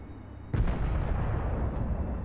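A weapon in the Space Engineers video game fires at a base: a sudden loud, booming blast hits about half a second in, then a dense rumbling roar carries on steadily to the end.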